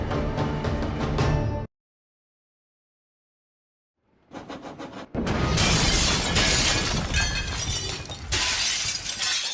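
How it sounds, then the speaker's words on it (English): A loud crash of shattering china with scattering debris as a train hits buffers, then a second of silence, followed by more bursts of breaking glass and clattering shards continuing noisily. "There was a sound of glass breaking, people yelling, and the China on his train was completely smashed."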